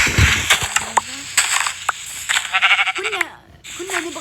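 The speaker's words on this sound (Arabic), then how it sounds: "ايش اسمه؟ ايش؟ خروف." Several short sheep bleats come and go over a busy Minecraft game background with clicks and thumps, moderately loud and close.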